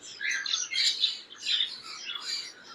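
A pair of white ringneck parrots gives several harsh, close squawking calls in quick bursts, with short gaps between them.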